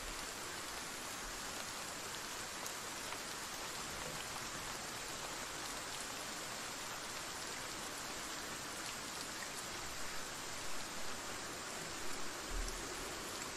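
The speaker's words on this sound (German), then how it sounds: "Andererseits, wenn das Wasser ausfällt, bin ich eigentlich ganz froh, wenn dann wenigstens Regen fällt." Steady rain falls in the survival game Project Zomboid, a soft, even hiss of drops on surfaces running throughout, fairly quiet and unbroken by speech.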